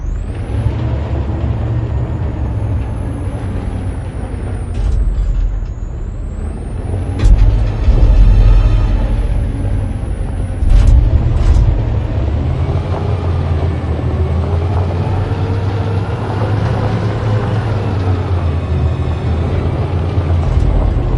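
A large truck rumbles along in Detroit: Become Human, its engine a steady low drone with hissing air-brake bursts and rattling vehicle noise, loud and continuous with no talking.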